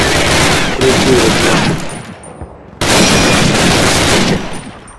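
Call of Duty machine gun fire rattles in loud, dense bursts, with a brief drop in the middle before another sustained volley starts. There is no talk.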